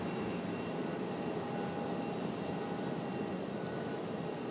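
A FedEx jet aircraft takes off using the full runway length at Raleigh Durham International Airport, a steady broad engine roar with a thin whine, heard from a distance and unbroken.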